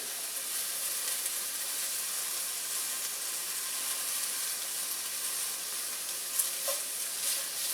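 Cheese steak filling sizzles steadily in a pan while a spatula scrapes and stirs, a soft continuous frying hiss with a few small clicks near the end.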